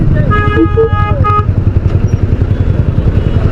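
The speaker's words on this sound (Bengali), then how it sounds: "তার মধ্যে আমার হর্নটা একটু প্রবলেম করছে, দেখেন সাউন্ড কেমন হয়ে গেছে, হর্ন সম্ভবত কেটে গেছে" A faulty horn on a Suzuki GSX-R motorcycle on a road tour gives a few short, strained, buzzy toots over the loud rumble of the running engine, which carries on steadily after the horn stops.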